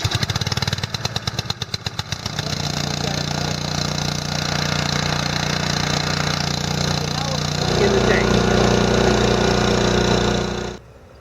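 An Environx TDM-100 mixer's small gas engine, choke on, catches after rapid pull-cord rattles, then settles into a loud, steady running drone that rises in pitch before cutting off abruptly.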